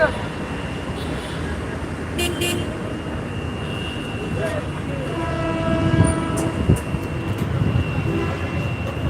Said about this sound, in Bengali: রেলগাড়িটা চলে আসবে এখনই